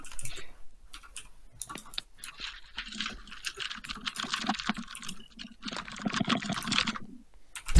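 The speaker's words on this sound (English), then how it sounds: "He is typing away." Rapid typing on a computer keyboard during a Cards Against Humanity game, a steady patter of close, crisp key clicks that runs on for several seconds and quickens toward the end.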